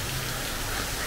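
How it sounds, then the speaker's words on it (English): Rain pours outdoors as a dense, steady hiss of drops striking surfaces, loud and close with no let-up. "So, we're actually out in the rain right now. It's pouring out."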